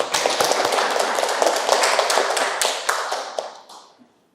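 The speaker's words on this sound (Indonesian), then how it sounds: "Tepuk tangan untuk kita semuanya." Students in a classroom give themselves a round of applause after a quiz, brisk close clapping from many hands that tapers off and stops just before the end.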